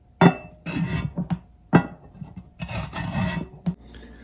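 A carrot is pushed across the slicer attachment of a stainless steel bowl grater in a few separate strokes, each a dry rasping scrape with sharp clicks, close and fairly quiet.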